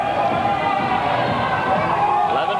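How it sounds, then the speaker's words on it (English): Hockey arena crowd cheering for the Cubs during a league finals game, a loud sustained roar of many voices with shouts rising over a constant crowd din. "Now the crowd coming alive a little bit here."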